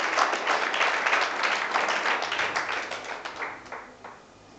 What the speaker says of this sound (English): Brilliant occasion, a round of applause.